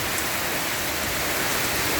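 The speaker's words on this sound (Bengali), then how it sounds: "আজকে বৃষ্টি হচ্ছে। মাশাআল্লাহ, অনেক বৃষ্টি।" Heavy rain pours down steadily in rural Abhaynagar, Jashore, near a cowshed and house, a dense, uniform hiss of drops on surfaces with no let-up and no voices.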